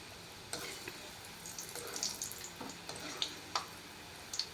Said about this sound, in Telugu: ఇప్పుడు వీటిని దోరగా వేయించుకోవాలి